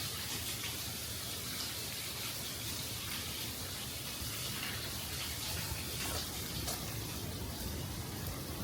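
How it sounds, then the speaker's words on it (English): Water rushing down on a Brooklyn street near Brighton Beach and Sheepshead Bay, a steady broadband gush like a heavy outpour that holds constant and fairly soft the whole time with no talk. "You hear all that water coming down?"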